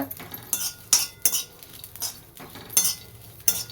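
Cluster beans (gawar) roasting in a pan as a spoon stirs them: a sharp scrape and clink of metal on the pan every half second or so, over a faint, soft sizzle, close and fairly quiet.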